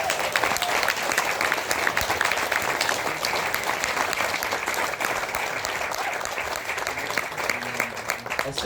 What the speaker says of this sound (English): Let's hear another round of applause for Alan.